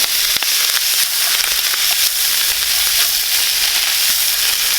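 Boiled fiddleheads frying in fat in a hot pan, a loud, continuous hissing sizzle close by with faint stirring ticks throughout.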